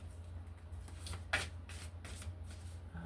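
Moonology oracle cards shuffle softly and close by, a series of quiet riffling swishes with one sharper snap near the middle, no talking.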